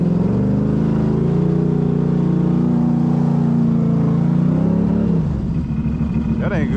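An ATV engine revs hard and steady at an off-road park, wheels spinning without gaining grip, then the loud drone eases off near the end with a rising whine.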